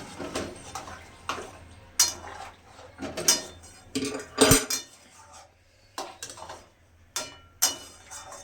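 Pointed gourd curry being cooked, with a series of sharp metallic clinks and scrapes of utensils against a pot and a lid clattering into place, close and intermittent over low kitchen background.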